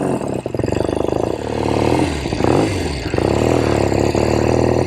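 A 1970 Royal Enfield Interceptor 750 Mk II motorcycle ridden close by, its engine loud and throbbing as it revs up and down through gear changes, with a rapid pulsing exhaust beat.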